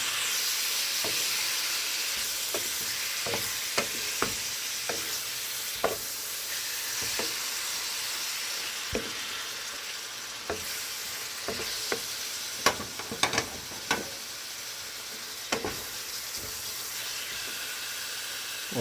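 Meat for Bicol express frying in a pan with a steady sizzle and hiss, broken by repeated scraping clicks of a spoon stirring it, close and alone.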